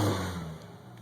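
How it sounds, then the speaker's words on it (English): A 1993 Ford Ranger with the 2.3 engine runs just after a cold start, a steady close mid-pitched engine drone with a brief rev at the start settling into idle. "Listen to that Ford Ranger power."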